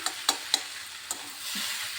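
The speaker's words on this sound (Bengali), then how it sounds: "এই যে মিষ্টিটা দিয়ে একটু ভাজা ভাজা করে নিচ্ছি" Unpeeled potatoes sizzle steadily in a hot pan with a little sugar while a utensil clicks and scrapes against it a few times early on.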